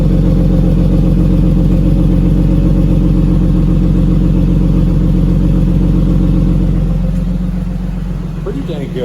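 A BMW E36 with an M50 engine fitted with eBay shorty headers idles in a garage, a deep, steady, close rumble that holds evenly before fading slightly at the end.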